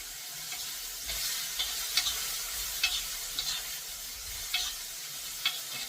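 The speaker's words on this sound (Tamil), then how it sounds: "இப்ப கடுகு பொரிய ஆரம்பிச்சுட்டு வெந்தயம் செவக்க ஆரம்பிச்சுட்டு நான் இப்ப இந்த தண்டை போட்டுடுறேன்" Drumstick stems drop into hot oil with spluttering mustard seeds and fenugreek, making a soft steady sizzle with a few sharper crackles and stirring scrapes, fairly quiet and close.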